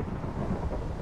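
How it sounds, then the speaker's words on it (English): Rain and thunder in Minecraft's MineZ survival server, a steady loud wash of rainfall with a low rumbling roll underneath, continuous and without talk. "dear God, is this rain obnoxious"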